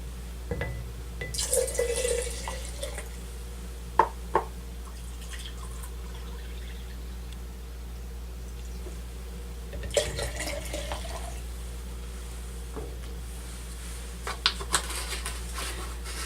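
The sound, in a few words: pouring hydrogen peroxide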